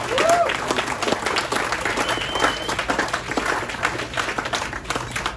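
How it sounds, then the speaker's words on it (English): A crowd at the Lincolnshire Show, an agricultural show, gives a round of applause for the young farmers: dense, sustained clapping that holds at an even level throughout. "the young farmers need to give a round of applause"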